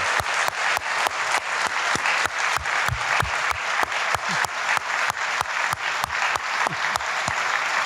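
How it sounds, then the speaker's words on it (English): A large conference audience at a plenary session applauds steadily, with dense, sustained clapping that stays loud and even throughout, with no voices standing out. "Please, let's give a round of applause"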